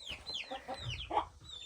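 A pencilled hen clucks in a series of soft, close, irregular calls and chirpy notes, with no talk over them.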